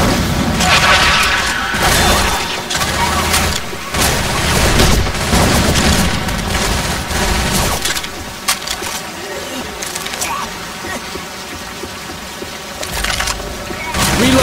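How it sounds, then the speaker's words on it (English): Loud, dense bursts of explosive booms and gunfire fill a chaotic fight from a Left 4 Dead 2 zombie game, grenade launcher blasts thudding among rapid shots, with voices shouting over the action. "Grenade launcher."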